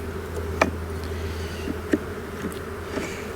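Honeybees buzz steadily around an open beehive during a honey yard inspection, with a low continuous hum and a few louder individual bees passing close by.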